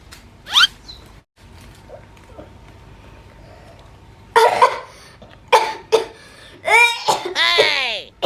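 Two children coughing: a squeaky vocal sound, a quiet stretch, then a run of harsh, voiced coughs in clustered bursts with whiny, sliding cries, close and fairly loud.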